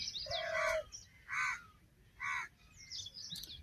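A crow caws near a tree in woodland where mahua flowers are gathered. Three loud, harsh caws come at a regular pace, close by, with faint chirping from other birds between them.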